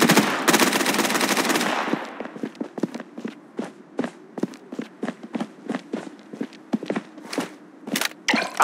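A burst of rapid automatic gunfire from the shooter game Blood Strike opens loudly, then gives way to a steady run of close footsteps with occasional sharper clicks and impacts.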